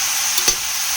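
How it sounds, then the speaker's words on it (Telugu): Mushrooms fry in a pan with a steady, loud, close-up sizzle, while a brief soft scrape of stirring passes through. "ఇది ఇలా ప్యాన్లో ఫ్రై చేసుకుందాం. బాగా కలుపుకుంటాము."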